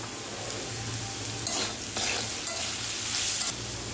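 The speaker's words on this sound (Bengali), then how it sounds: "আলুটাকে একটু আমরা ভাজা ভাজা করে নেবো" Potatoes with salt and turmeric fry in a pan, giving a steady close sizzle with stirring scrapes throughout and no voices.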